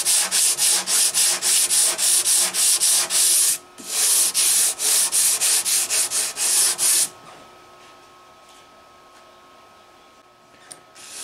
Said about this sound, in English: every time I sand over this abalone and mother of pearl, I can see that I'm shaving it down a little bit